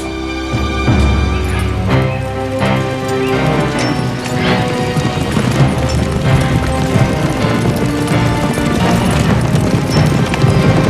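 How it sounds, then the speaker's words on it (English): Horses galloping in a Robin Hood action drama, loud rhythmic hoofbeats under a full, dramatic music score that runs throughout, with crashes and booms along the way. "Saddle up the horses! We ride after Robin Hood!"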